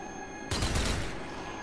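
Gunfire in the zombie shooter Zombie Army 4 breaks out suddenly after a moment of quiet. A loud, close burst of rapid shots follows and rings out briefly, with no talking.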